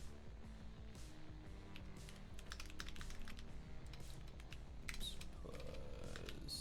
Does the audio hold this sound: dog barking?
no